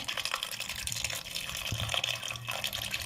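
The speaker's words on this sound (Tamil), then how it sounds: "இப்போ நம்ம தேவையான தண்ணி சேர்த்துக்கலாம்" Water poured into a pressure cooker holding peanuts and salt, a soft continuous splashing trickle heard close but faint, with small gurgles and no talking.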